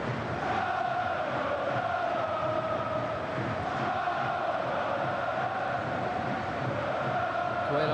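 A packed Hamburg football stadium crowd at a UEFA Cup night match against Aston Villa roars and chants in a dense, unbroken wall of sound, loud and steady throughout with a slight swell near the middle.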